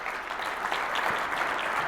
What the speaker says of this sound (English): big round of applause for Shelby.